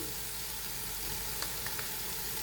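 Yogurt going into sautéed tomatoes in a pan of mutton biryani, a soft, steady sizzle with a few faint clicks of a spoon, quiet and close, with nobody speaking.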